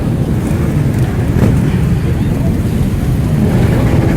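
Motorcycles moving off slowly on the sand at the 2020 Touquet Enduro beach race, a dense continuous roar of engines blended with wind buffeting, close and loud.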